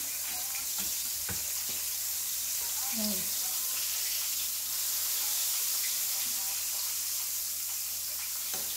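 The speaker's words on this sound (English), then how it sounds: "And so while that's frying on low" Steady broadband sizzle of conch frying on low heat in a pan, continuous and fairly quiet, with a few faint clicks and scrapes over the hiss.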